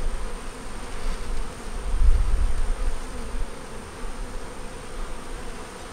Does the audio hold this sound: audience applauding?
no